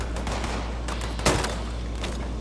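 Gunfire from a super mutant in Fallout 76, heard as a short burst of rapid shots with one sharper, louder report partway through, set against a steady game background with no talking.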